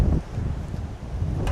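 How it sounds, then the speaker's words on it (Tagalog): Strong wind gusting across a view deck in Montalban, Rizal, a rough low rumble of buffeting against the microphone with brief surges at the start and end. "Grabe yung lakas ng hangin oh."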